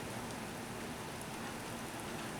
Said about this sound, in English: And I hear little droplets rain on the ground.